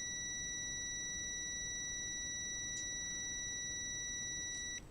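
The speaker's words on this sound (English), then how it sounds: "I'm getting the beep." A continuous electronic tone sounds steadily from a tester as positive is touched to positive, a faint, unbroken high beep held for several seconds before cutting off, with no talk.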